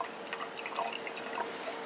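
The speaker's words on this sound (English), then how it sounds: "I'm going to add some more hydrogen peroxide" Hydrogen peroxide poured into a solution holding computer circuit boards for gold recovery, a faint close trickle and dripping of liquid with small splashes, no voices.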